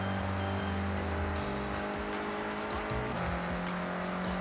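A 1960s car's engine revs steadily in the Forza Horizon racing game, a continuous droning tone whose pitch steps down and back up through gear changes, loud and alone.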